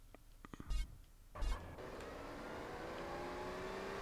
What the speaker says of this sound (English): You still hear the car sound.